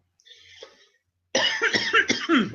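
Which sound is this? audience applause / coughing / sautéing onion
coughing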